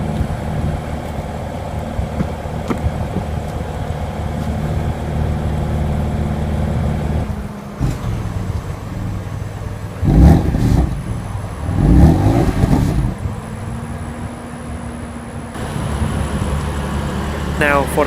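A 2015 BMW M4 with a 3-liter twin-turbo inline-six settles into a steady, rumbling idle, then lets out two loud revving bursts from the exhaust before dropping back to a deep idle.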